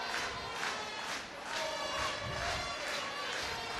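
Crowd at a women's Six Nations rugby match between Ireland and Italy, cheering and roaring in a loud, sustained swell that rises and falls, with a commentator speaking over it.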